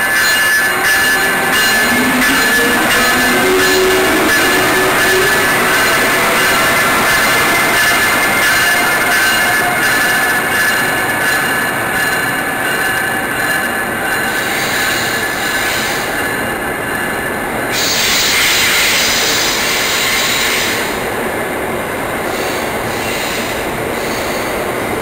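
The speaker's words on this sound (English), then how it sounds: "I caught this great video of the Amtrak pulling out of the station" An Amtrak train pulls out of a station, loud and close throughout, with continuous rumbling wheels, high metallic squealing and a steady rolling clatter that shifts in tone as the cars pass.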